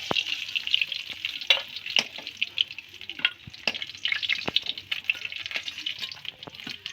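Puti fish frying in hot oil in a village kitchen, a steady bright sizzle with scattered sharp pops and crackles throughout, close and continuous with no voices.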